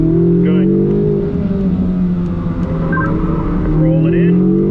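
Chevrolet Corvette C8 Z06 on the Spring Mountain race track, a loud sustained engine roar that dips briefly then builds again as it accelerates, with a voice talking over it.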